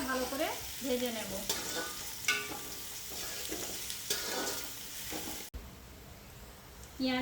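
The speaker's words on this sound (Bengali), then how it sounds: "পেঁয়াজটা ভালো করে ভেজে নেব।" Onions sizzle steadily in hot oil for chicken biryani as a spatula scrapes and stirs them around the pan, a soft continuous frying hiss broken by repeated stirring strokes, close and fairly quiet.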